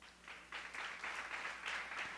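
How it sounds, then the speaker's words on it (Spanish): A church congregation claps for the Lord, a faint, steady patter of applause from a crowd lasting a couple of seconds. "Dele un fuerte aplauso al Señor."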